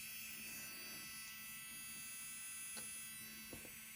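A Caydo wireless electric diamond painting pen runs with a faint, steady high buzz, close by and alone, with a couple of light clicks near the end.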